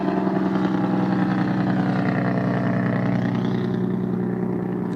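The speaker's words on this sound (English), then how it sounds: "Wow, that was a noisy truck." Noisy truck with a growling engine passing close by: a loud, continuous low drone that holds steady, then slightly fades toward the end, heard alone without talk.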